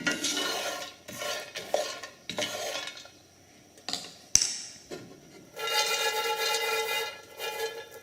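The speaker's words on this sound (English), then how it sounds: "the key here to roasting coffee in a pan is to keep it stirred up." Coffee beans roasting in a pan are stirred in bursts, scraping and rattling against the metal with short pauses between strokes, close and clear.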